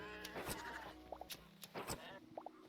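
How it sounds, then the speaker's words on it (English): Sheep in the game Hytale bleat in short, faint, paired calls, repeated twice among soft game noises and brief clicks, with a voice briefly audible. "Oh, I see a sheep."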